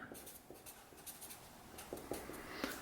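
A pen scratching across paper as a daily task list is written, close and quiet with short strokes and brief pauses between words.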